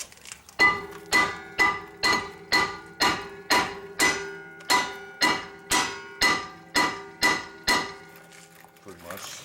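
Hammer blows on the brake dust shield of a 2005 Jeep Grand Cherokee: about fourteen sharp metallic clanks in a steady, evenly spaced rhythm, each ringing briefly before the next strike.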